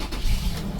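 A Toyota Tacoma X-Runner truck engine cranks and turns over in a brief, close, rumbling burst.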